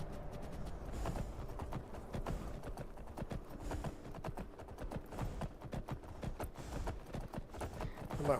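Horse hooves clip-clopping at a gallop in the video game Skyrim (Wabbajack modlist), steady rapid rhythmic beats continuing close and loud throughout.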